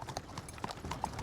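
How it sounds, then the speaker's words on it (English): Horse hooves clip-clop quickly and evenly as a horse pulls a cart carrying a scarecrow, in a children's Thomas & Friends story. The clops are brisk, fairly close and clear. "a scarecrow riding a horse-drawn cart"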